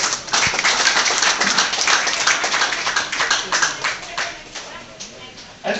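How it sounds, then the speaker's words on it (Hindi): A crowd claps, a dense patter of many hands that thins out toward the end, with voices mixed in. "अरे वाह, तालियां।"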